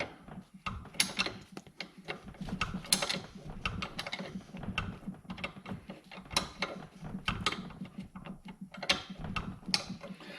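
A wrench works loose the rear shock bolt on a 2017 Ford Escape, heard as rapid ratcheting clicks and metallic mechanical rattling in quick bursts, close and moderately quiet, with no talking.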